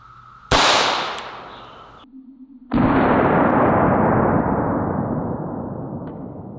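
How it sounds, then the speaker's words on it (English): Outdoor shot from a small SIG P290 RS pistol firing Federal Premium .380 hollow point rounds: a loud, sharp report that rolls into a long echoing tail, followed by a second booming blast that slowly fades. "So next up, we're gonna shoot the 380 out of the little SIG P290 RS."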